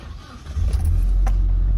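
A Mitsubishi Adventure with a 4G63 engine, suffering low power and a check-engine fault, fires up after a brief quiet moment, then settles into a loud, steady low idle rumble close by.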